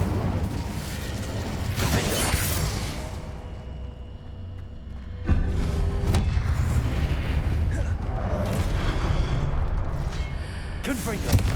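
An Incendio fire spell is cast in Hogwarts Legacy, producing deep booming bursts and a roaring whoosh of flame over rumbling game ambience, with a sharp surge partway through and a voice speaking in the game.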